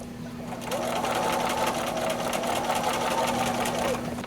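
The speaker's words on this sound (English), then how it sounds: "I'm back stitching here." A sewing machine backstitches fabric for a table runner, a steady close buzzing whir that runs without a break for several seconds.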